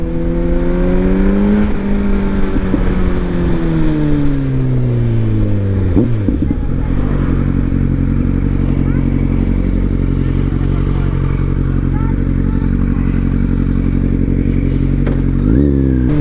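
A 2021 Kawasaki Z900 engine revs hard while riding, climbing through the revs, dropping on a shift, then holding a loud steady drone up close before rising again at the end.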